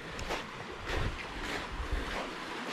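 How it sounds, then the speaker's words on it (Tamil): Water from a desert waterfall at Wadi Kharar near Mecca pours onto rocks, a steady broadband rushing and splashing close by, with no talking. "பாறையில் தண்ணி ஊற்றுது, மேலேருந்து வருது அந்த வெள்ளதாரையிலேருந்து"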